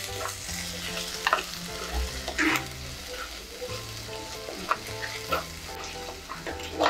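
Prawn gravy ingredients sautéing in a clay pot, with a steady close sizzle and frying crackle. A spoon stirs and scrapes against the pot at intervals, and no one speaks.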